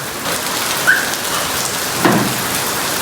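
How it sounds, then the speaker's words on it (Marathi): Steady first monsoon rain patters down in a broadband hiss, with a couple of brief louder drips or splashes standing out near the middle and toward the end. "पूजा पहिला पाऊस आहे भिजायचा की गपचूप घरात बसायचा"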